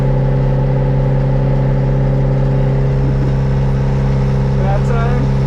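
A sailboat motors under its inboard engine along the Florida Intracoastal Waterway. The engine gives a loud, steady, close drone with a deep low hum, and faint voices come up briefly near the end.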